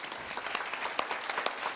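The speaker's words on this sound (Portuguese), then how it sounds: "Salva de palmas" Faint, brief applause rises from an audience after a lecture, a soft patter of many hands clapping at a distance.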